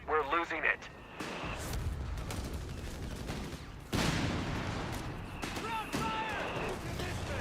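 Artillery fire in the real-time strategy game Company of Heroes 3 during a tournament match: rolling booms and crackling barrages rumble on and off, with a heavy blast midway, under steady commentator speech.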